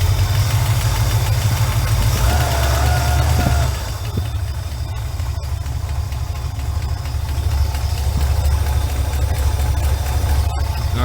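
Engine of a 1968 Chevelle idling steadily up close, a low rumbling drone with a faint repetitive tick that may be an exhaust leak or knock; the tone shifts slightly partway through.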